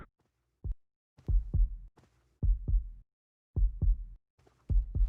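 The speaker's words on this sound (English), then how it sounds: "Listen to that heartbeat." A heartbeat in the Splinter Cell video game, thumping in steady paired lub-dub beats, deep and close, repeating about four times with short gaps between, alone with no talk.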